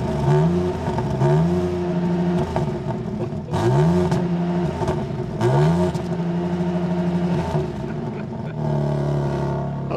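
A BMW M3/M4 in sport mode, still cold and standing still, revs its engine in four rising bursts that the electronics cap short of full revs, each falling back to a throaty idle, loud and close with no talk.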